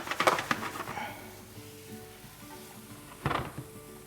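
Diced onion and grated garlic frying in hot oil, a faint steady sizzle under a few utensil knocks and stirring scrapes at the start and near the end.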